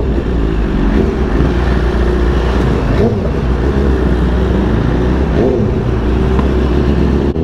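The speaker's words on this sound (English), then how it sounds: "New York City traffic is no joke." Busy New York City street traffic heard from a bike ride toward a Brooklyn pier, a loud continuous rumble of car and bus engines with passing vehicles swelling by, close and steady.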